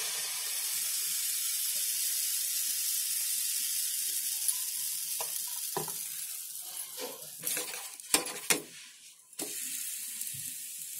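Pancake batter sizzles steadily on a hot tawa over a lit gas flame, a continuous close hiss joined in the later seconds by several sharp clicks and scrapes of a utensil; no one speaks.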